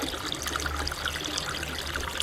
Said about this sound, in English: The water then comes up through the material and out of the pipe,